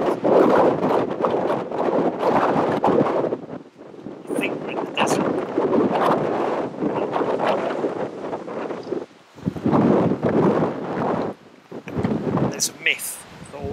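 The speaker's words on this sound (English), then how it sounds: "It's really breezy, which is great." Strong wind sweeps across the Maspalomas sand dunes on Gran Canaria, roaring against the microphone in heavy continuous gusts with brief lulls, while a person talks under the buffeting.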